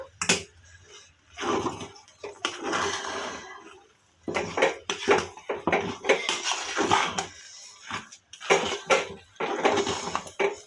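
A spoon stirs and scrapes a chicken gravy curry in a cooking pot on a stove, clinking and scraping in repeated close bursts with short pauses between.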